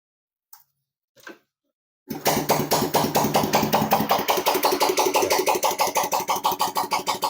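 Yamaha Jupiter Z motorcycle engine, checked after a spark plug replacement, gives two brief cranks then fires up and settles into a loud, close, evenly pulsing idle with a steady rapid thump.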